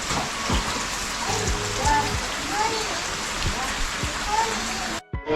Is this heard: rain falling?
yes